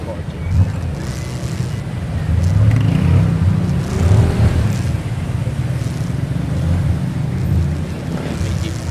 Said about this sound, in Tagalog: Traffic parang ang daming kotse.